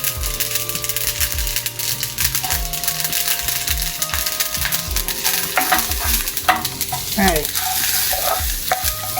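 Dried red chillies and curry leaves spluttering in hot oil in a wide pan, a dense close sizzle with rapid crackles and sharp pops, plus occasional scraping and clinking of a utensil.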